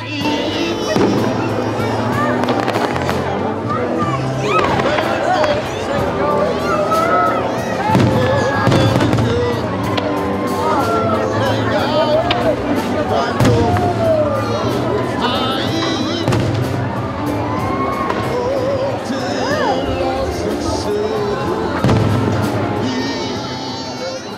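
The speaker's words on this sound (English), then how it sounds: "We have one of the best fireworks displays in the Southeast." Fourth of July fireworks display in downtown Gatlinburg, a long, loud, continuous barrage of booms and crackling bursts with rumbling echoes, crowd voices mixed in throughout.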